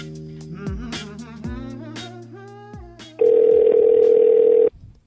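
An iPhone call rings out: a sequence of short melodic tones followed by a loud, steady held tone that cuts off abruptly, heard alone without voices.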